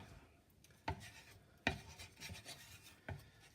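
A spoon stirs curry in a pot with soft, quiet rubbing and scraping strokes, including a few sharper scrapes against the side, heard close with no talking.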